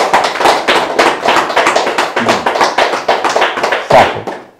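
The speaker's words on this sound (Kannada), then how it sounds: "ಜೋರು ಚಪ್ಪಾಳೆ ಬಿಡೋದು." Loud hand clapping, fast and continuous, with close, sharp claps packed in an even rhythm and no other sound.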